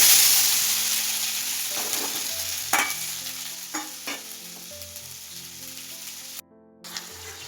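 Paneer cubes fry and are stirred in hot oil in a home kitchen pan, giving a steady sizzle broken by several sharp scrape and clatter hits from the stirring, close and fairly loud with no talking.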